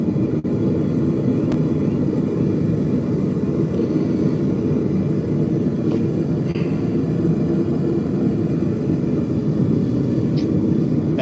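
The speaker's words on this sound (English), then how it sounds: "Hopefully you can still hear me over that forge. It is quite loud." A forge roars loudly and steadily while melting copper, a dense continuous jet-like rush with no pauses throughout.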